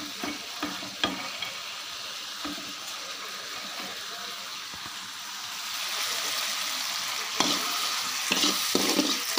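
Peanuts frying in oil for a chutney, a steady broadband sizzle with intermittent stirring scrapes, growing louder and brighter in the second half, with no voices.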